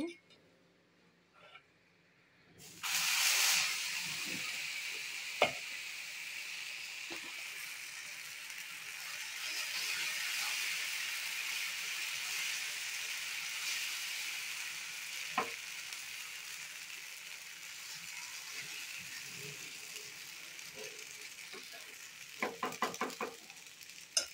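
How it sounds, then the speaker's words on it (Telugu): Oats dosa batter hits a hot pan and bursts into a loud, steady sizzle that holds for about twenty seconds, with a few soft clicks and scrapes near the end. "పెనం కాలింది కదా, ఇప్పుడు నేను దోశ వేస్తున్నాను."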